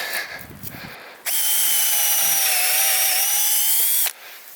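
A power drill whines steadily for about three seconds as it bores into a wood log for mushroom plug spawn, with quieter rustling before and after.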